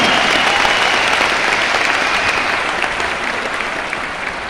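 Sustained, loud applause from a large audience at an awards function in Delhi, steady clapping filling the whole stretch without a break.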